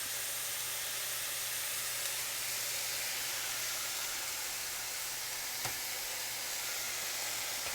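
A pork loin sears in a hot pan, giving an even, steady sizzle and hiss that holds at a constant level throughout. There is one faint tick partway in and no voices.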